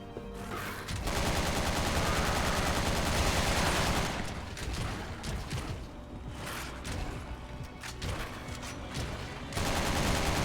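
Sustained bursts of video-game gunfire from Resident Evil 6 fill the scene, with rapid fusillades and machine-gun rattle running loud and dense, easing briefly in the middle before surging again.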